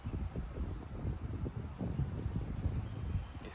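Wind gusting outdoors, a low buffeting rumble against the microphone that stays fairly loud and unbroken throughout, with no voice over it.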